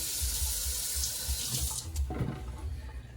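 Tap water runs steadily into a kitchen sink while ribeye steaks are rinsed, a constant close hiss that shifts in tone partway through as the flow hits the meat.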